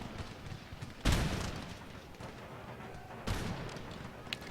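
Cannon fire in an Empire Total War battle, two distant booms a couple of seconds apart, each a sharp thump with a rumbling tail, over scattered crackling musketry and low battlefield noise.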